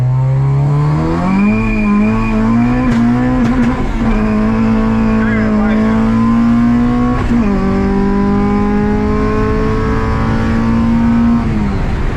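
An H23A-powered Honda Civic engine roars loudly and steadily, revving high as it accelerates in third gear with a rising pitch, tires spinning on a wet surface, while voices talk over it.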